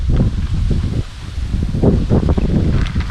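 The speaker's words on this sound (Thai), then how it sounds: "ลมแรงด้วย" Strong wind gusts across an outdoor bottom-fishing spot, buffeting and rumbling close to the microphone in a steady rush with slight dips.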